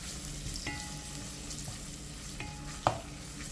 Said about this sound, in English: And now I'm ready to add my saltfish. Ooh, mix that up.